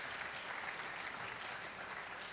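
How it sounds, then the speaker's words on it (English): Applause for Professor Dorothy Yabu-Amenu, Director of the Noguchi Memorial Institute, at an anniversary symposium: steady, dense clapping from a seated audience, fairly quiet and even throughout, with no speech over it. "let's give her a round of applause"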